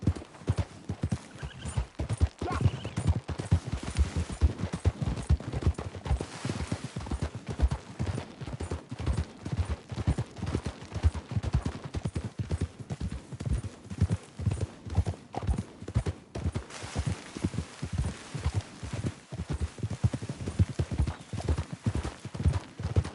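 Horse hooves clip-clop steadily and continuously while riding in the Red Dead Redemption 2 video game, a brisk rhythmic gait that is loud and close throughout, with a faint whinny and a little distant talk.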